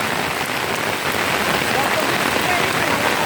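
Steady rain falls on surfaces outdoors, a dense even hiss that continues without a break throughout.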